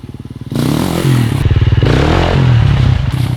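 A dirt bike rides an off-road ravine trail, its engine loud and close, throbbing in a steady, pulsing rhythm that rises into revving surges with some clatter, heard alone.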